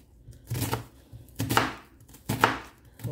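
Knife roughly chopping an onion on a board, three clear thudding strokes in an uneven rhythm, close and alone.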